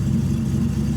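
A TVR sports car engine idles steadily with a deep, continuous low rumble close by, running on battery power with a failed alternator, and no voices over it.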